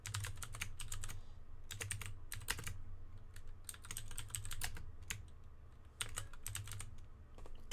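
Rapid bursts of typing on a computer keyboard while entering NBA prop bets, crisp clustered keystrokes with short pauses, close and steady with no talking.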